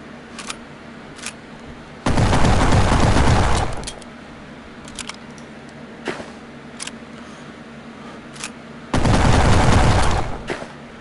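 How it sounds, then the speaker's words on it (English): Shotgun fire from the VR shooting game Gun Club VR comes in two loud, sustained blasts of gunfire several seconds apart, with small mechanical clicks and handling noises in between. "This one's also a shotgun."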